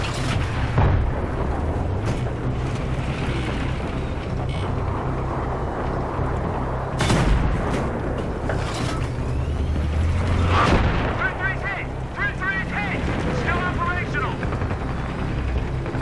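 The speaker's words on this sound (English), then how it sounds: "Being shot from fucking everywhere." Tank under heavy gunfire in the Battlefield 3 video game, with repeated sharp impacts and booms layered over a constant low engine rumble, loud and close, while someone talks over it.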